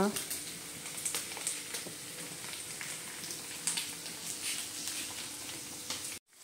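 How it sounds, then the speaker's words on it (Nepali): A pot of tea bubbles and boils steadily, a soft, continuous crackling simmer with small pops, quiet throughout and stopping abruptly at the end. "यहाँ चिया पनि उम्लेको छ"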